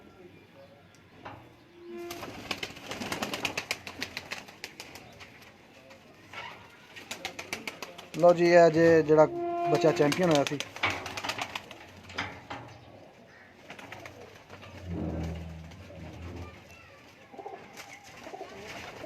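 Lakha pigeons coo loudly up close in a strong rolling sequence in the middle, with scattered rustling and handling noise and someone talking before and after the calls.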